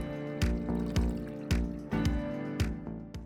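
A litre of water pours into a saucepan of lentil dhal with chopped tomatoes in a series of rhythmic glugging splashes about every half second, the gurgles rising slightly in pitch as the pan fills, with no voices.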